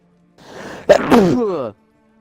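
A single loud, close sneeze from a character in The Witcher 3: Wild Hunt, a sharp burst followed by a drawn-out voiced tail, alone against near silence.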